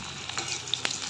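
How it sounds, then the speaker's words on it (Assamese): Sliced onions with ginger and garlic fry in hot oil for a pork curry, giving a steady, close sizzle broken by a few small clicks from stirring. "পিঁয়াজখিনি দি দিছোঁ।"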